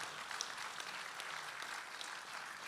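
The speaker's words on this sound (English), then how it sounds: "How about applause for that?" Audience at a Marine Corps birthday ball applauds, an even, quiet wash of many hands clapping at a distance, steady from start to finish with no voices on top.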